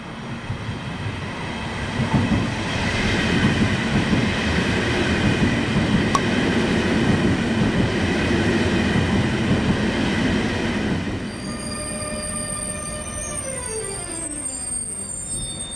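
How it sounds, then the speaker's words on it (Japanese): An Austrian Federal Railways train pulls into a station platform bound for Vienna airport and Vienna Central Station, a loud close rumble of wheels and carriages that eases off, then brakes squeal in a falling tone as it slows to a stop. "まもなくオーストリア連邦鉄道がホームに進入します"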